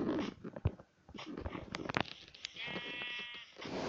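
Sheep bleating in the Minecraft video game, short wavering bleats scattered across a busy mix of game sounds, with a sustained tonal bleat near the end.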